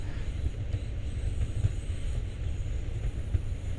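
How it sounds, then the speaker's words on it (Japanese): A train pulls in at an empty platform in Train Sim World on a German rail line, with a low, rumbling, continuous rolling sound of wheels and motors and faint irregular thumps. It stays moderately loud with no voices. "誰もいないホームに電車が入ってきました"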